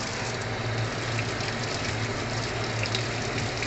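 Salted dried fish (daing) being washed under running water, a continuous close gush and splash from a tap filling a basin, with no voices.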